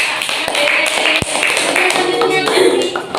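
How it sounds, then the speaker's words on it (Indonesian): A classroom of students clapping together, a dense burst of applause with sharp hand taps throughout and voices mixed in. "Tepuk tangan buat"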